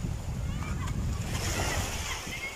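Sea waves wash onto a beach at Punta in Malimono, Surigao del Norte, a steady, close surf rush with light splashing, while a voice speaks over it.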